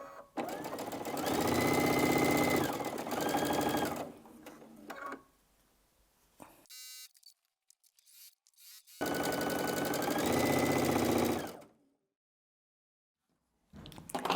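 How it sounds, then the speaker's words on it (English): Sewing machine stitching jelly roll fabric strips onto the side of a Double Irish Chain quilt block, loud steady running in two long bursts separated by pauses and short clicks, with no talking. "So we're just going to sew these onto the side."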